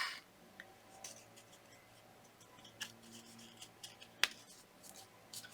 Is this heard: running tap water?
no